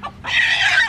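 A backyard hen gives one short, loud, close cluck, a brief rising squawk lasting under a second.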